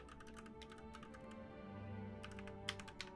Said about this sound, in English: I keep typing my password wrong because I can't read the keys.